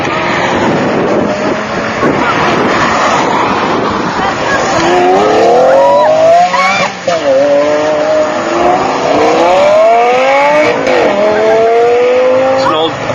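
A new-version Lamborghini Gallardo supercar revs and accelerates past among other supercars, loud engine notes rising and falling in several sweeps, with people talking over it.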